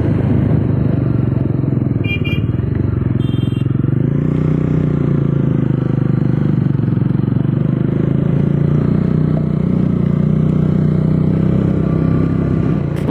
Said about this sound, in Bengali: কোথায় কোথায় যে বাইক চালাচ্ছি আমরা।